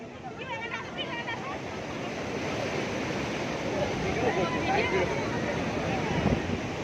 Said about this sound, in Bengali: তো দেখো এই ঢেউটা আসছে এই ঢেউটা তোমাদের তুলে দেখাচ্ছি